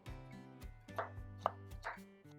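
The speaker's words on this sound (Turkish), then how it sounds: "karpuz kabuklarımızı biraz daha küçük boyutlara getireceğim" A knife chops watermelon rinds into smaller pieces on a board, a few crisp, close cuts separated by pauses, against quiet background hum.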